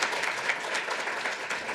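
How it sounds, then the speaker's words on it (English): Applause from a panel audience honouring the speakers, dense steady clapping that fills the whole moment without any talking. "I think you deserve applause"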